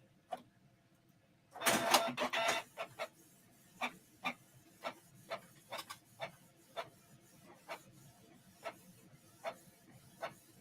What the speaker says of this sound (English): I guess I got to go through all the test printing.